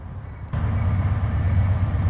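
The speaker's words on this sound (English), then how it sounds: "another train coming by" A train rolls by nearby in an outdoor park setting, a steady low rumble that jumps louder about half a second in and then holds as a continuous drone to the end, with no voices.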